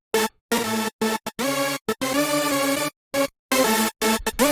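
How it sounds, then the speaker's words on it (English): A hardstyle/rawstyle lead synth, all layers summed through a compressed lead bus, plays loud chopped stabs and sustained harmonic notes in a stuttering rhythm with hard cuts to silence. "So all the leads together, and with the processing on this lead bus, it sounds like this."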